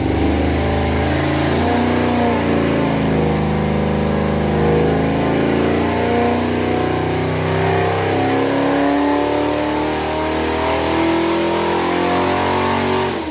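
A 406 Vortec-head engine with a 750 carburetor roars on a dyno in a loud, continuous pull, its pitch climbing steadily as revs rise and then easing off at the end, with no voices over it.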